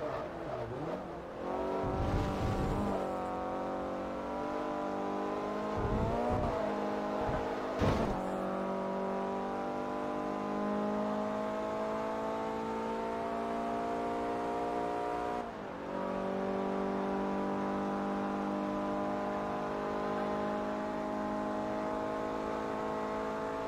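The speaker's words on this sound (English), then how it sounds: "I think it's the sound of the engine. It sounds faster." A Ford Focus race car engine in Forza Motorsport 3 drones loudly and continuously, revving up through the gears with brief drops at shifts, a steady high-pitched buzzing whine held for long stretches.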